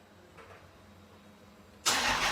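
A Dodge Challenger R/T's engine cranks and fires up with a sudden loud roar after a quiet pause, then holds a strong, steady rumble close by.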